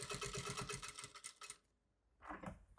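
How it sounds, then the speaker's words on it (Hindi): A sewing machine running a double line of stitching on a large travel bag, loud and close with a rapid even rattle that stops for a short pause and then starts again. "यहाँ डबल सिलाई करते हैं"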